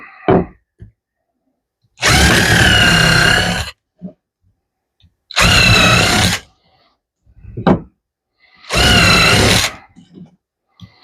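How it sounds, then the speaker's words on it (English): A power drill pre-drills holes in wood for trailer steps, whining in three separate bursts of about one to two seconds each, close and loud, with quiet handling clicks between. "Pre-drill some holes."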